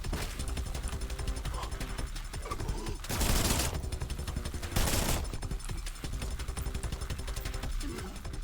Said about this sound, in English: You don't mind if I just riddle you with bullets.